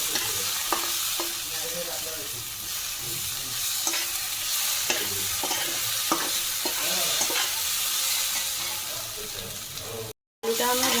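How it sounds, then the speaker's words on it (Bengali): Potatoes fry with turmeric in a pan for a Bengali moong dal and bottle gourd dish, with a loud, steady sizzle and repeated scraping strokes of a spatula, briefly cutting out near the end. "অল্প হলুদ, মিডিয়াম আছে এটাকে খানিকক্ষণ নেড়ে নেব।"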